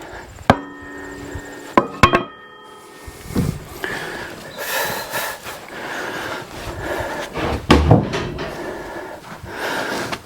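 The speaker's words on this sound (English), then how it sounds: "I can finish it up with a chisel now" A chisel works wood with a series of sharp, close chopping strikes and scraping cuts, irregularly spaced, with quieter rubbing in between.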